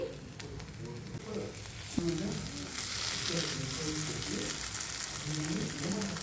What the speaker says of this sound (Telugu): ఇప్పుడు మళ్ళీ మూత పెట్టేసుకొని ఫ్రై చేసుకోవాలండి